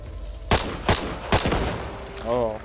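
Three sharp, loud bursts of fully automatic rifle fire crack out in quick succession in the zombie shooter Back 4 Blood, each a short rattling volley, followed by a brief tonal in-game sound near the end.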